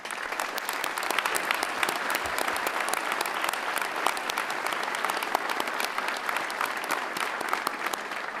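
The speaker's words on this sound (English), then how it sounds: "they deserve a round of applause" A commencement crowd at Northcentral Technical College's Fall 2018 graduation applauds the graduates: dense, steady clapping that fills the hall evenly from start to finish without pause.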